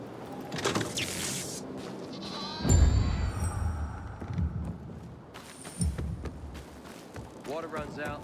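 Goats bleat in a pen in the video game Dying Light 2, a few scattered calls over a steady noisy ambience with talking voices and background activity.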